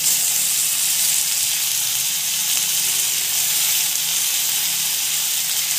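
Tomatoes added to onions frying in a pan give a loud, steady, close hiss of sizzling oil that carries on unbroken throughout.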